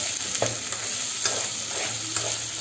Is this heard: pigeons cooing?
no